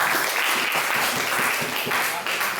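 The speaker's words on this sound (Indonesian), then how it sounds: "Beri aplaus untuk kawan yang mimpin doa" Classroom applause for a classmate who led the opening prayer during an Akidah Akhlak lesson, steady clapping from a group of students filling the room for a few seconds.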